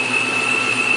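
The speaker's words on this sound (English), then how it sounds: "What is that whistling sound? That's the blower." A 2013–2014 car engine idles with the hood open while its blower whistles, a steady high thin tone riding over a constant mechanical hum for a brief second.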